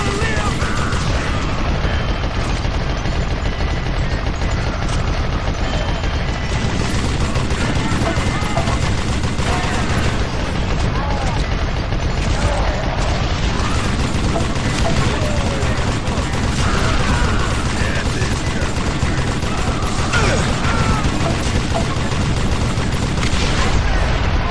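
Dense, continuous gunfire and booming shots from the Western shooter Call of Juarez Gunslinger, with rapid overlapping volleys filling the whole stretch at a loud, steady level.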